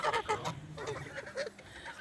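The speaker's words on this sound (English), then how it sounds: "I'm being stalked by geese." Several geese honk repeatedly close by on a homestead with Icelandic sheep, loud overlapping calls in quick bursts throughout, with no talking.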